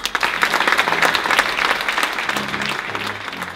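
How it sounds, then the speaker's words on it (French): An audience applauds steadily to welcome the guest of honour at a Jura departmental council ceremony in France that presents individual grants. The clapping is dense and sustained throughout, with a faint low hum beneath it. "je vous demande d'accueillir par vos applaudissements le parrain de la soirée, Monsieur François Bailly."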